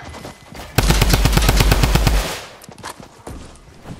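Rapid automatic gunfire in a shooter video game, one loud sustained burst of evenly spaced shots lasting about a second and a half, followed by a fading echo and a couple of faint later impacts.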